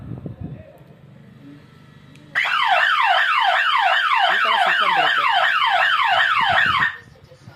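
A loud electronic alarm siren wails in rapid repeating rising-falling sweeps for about four seconds, starting abruptly after quiet speech and cutting off sharply.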